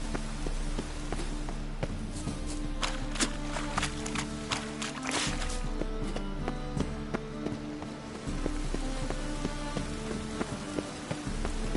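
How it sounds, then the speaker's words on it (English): Rain falling on city streets in the video game The Witcher 3, a steady dense patter across the whole span with scattered sharper taps and clatters mixed in, no talking. "The rain will cleanse the city streets of filth."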